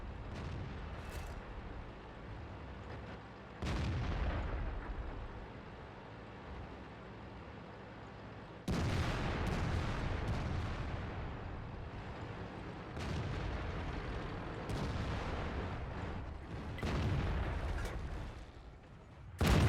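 Artillery shells strike a Skoda T-50 tank in a tank battle video game, several heavy booming impacts and blasts arriving at irregular intervals over a low rumbling background.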